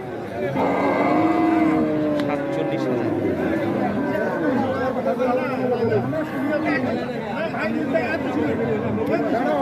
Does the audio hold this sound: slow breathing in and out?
no